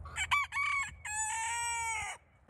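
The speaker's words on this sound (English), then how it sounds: "Give us a good crow" A rooster crows loudly and close by, a full cock-a-doodle-doo in two bursts, the second a long sustained call trailing off.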